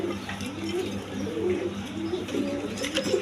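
Pigeons of fancy colour breeds kept for sale coo in soft, repeated low throaty phrases, close by and steady throughout with no talk.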